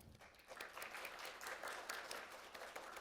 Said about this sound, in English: please welcome Dr. Agostini with a big round of applause.